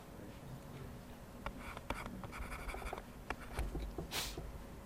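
A pen scratches across paper as a physics equation is written out, soft rustling strokes with a few sharper ticks over a steady background hiss and no speech.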